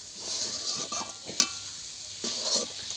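Rice naru mixture stirred in a pan: soft scraping and clinking of a spoon against the pan in a few short strokes, close and fairly quiet, with one sharper metallic clink midway and a faint sizzle beneath.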